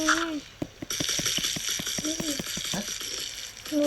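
Oil sizzling and crackling in a pan, with clattering stirring and scraping sounds over the steady fry, and a voice briefly audible.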